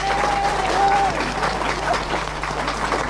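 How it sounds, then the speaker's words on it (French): An audience at a live French radio show applauds a class of primary schoolchildren, dense clapping across the whole stretch over a low constant hum, with a faint voice briefly audible. "je vous demande d'applaudir une classe de CM2 de Casson"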